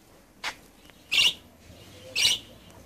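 A lovebird being handled gives three short sharp chirps, close and fairly faint, spaced about a second apart against a quiet background.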